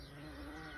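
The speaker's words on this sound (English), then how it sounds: "The bumblebees are busy." Bumblebees buzzing outdoors on a sunny day, a faint steady drone close by for under a second, alone with no talking.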